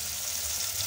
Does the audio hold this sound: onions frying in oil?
yes